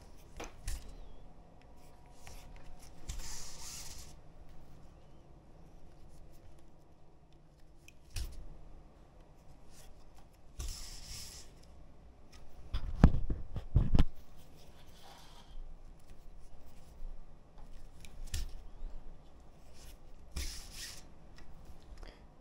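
Hand stitching through pre-punched leather on a bifold wallet, quiet close rustles and soft draws of thread recurring every few seconds, with a couple of louder handling bumps midway.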